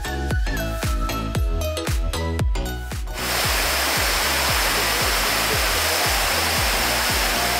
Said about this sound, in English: First glimpse of the waterfall.